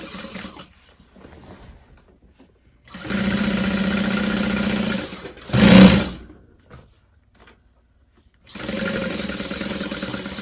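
Sewing machine stitching a handbag lining seam, with two steady runs of close, loud stitching separated by a short pause and a brief louder mechanical clunk between them.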